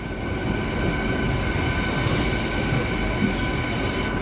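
A MEMU passenger train pulls out of Motur railway station with a loud, steady rolling rumble and thin wheel squeal throughout, heard from inside the carriage with no talking.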